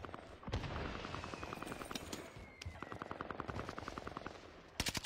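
Rapid automatic gunfire from a weapon in the video game Apex Legends, fired in several fast bursts with short gaps between them, loud and close, with other distant shots and game sounds behind it and no talk.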